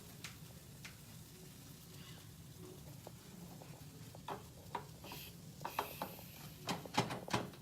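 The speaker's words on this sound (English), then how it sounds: "These are sizzling away." Quiet sizzling from a frying pan, a soft steady hiss with occasional pops and crackles growing sharper toward the end.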